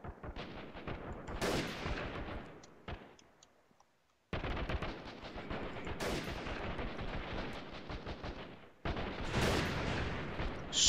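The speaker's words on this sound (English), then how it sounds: "they are throwing grenades." Grenade blasts and gunfire in the video game Freeman: Guerrilla Warfare, with dense bursts of rapid shots and sharp explosive cracks in loud clusters, broken by a brief quiet pause.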